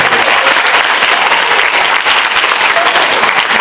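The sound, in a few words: debate audience applauding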